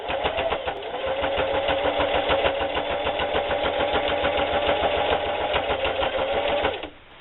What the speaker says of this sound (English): And just start sewing.